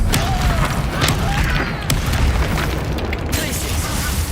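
Fire spell effects from the Hogwarts Legacy video game, a dense roaring burst of crackling flame and booming impacts, loud and sustained throughout.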